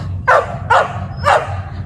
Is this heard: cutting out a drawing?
no